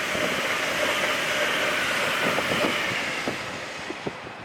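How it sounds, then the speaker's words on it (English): A train runs past near a paid pike-fishing pit by a tree line, a steady broad rumble and rush that holds loud and level, then slowly fades toward the end with a couple of faint knocks. "That'll be a train."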